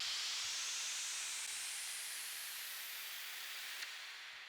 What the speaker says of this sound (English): Below that we have a noise riser.